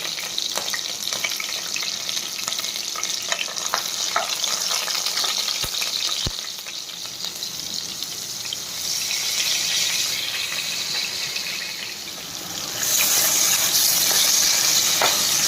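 Masala paste of onion, tomato, cashew, cinnamon, cloves and star anise frying in hot oil for a village-style okra and egg curry, a loud continuous sizzle and spatter with a couple of sharp knocks, swelling louder near the end.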